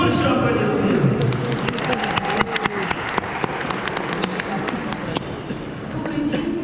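Steady applause from an audience at the opening ceremony of a taekwondo tournament, a dense, even patter of clapping that carries on throughout with voices murmuring underneath.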